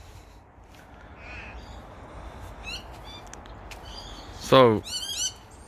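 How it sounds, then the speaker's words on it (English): Crows and parrots calling in a garden in Victoria after strong winds: scattered harsh caws and squawks near and far, building to a loud close screech near the end, with a brief spoken word in between. "We've got parrots, we've got crows, we've got everyone."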